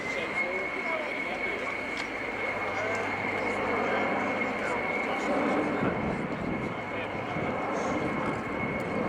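An Airbus A400M climbs steeply at an airshow, its four Europrop TP400 turboprops giving a steady, droning roar with a sustained high tone throughout, under an announcer's commentary.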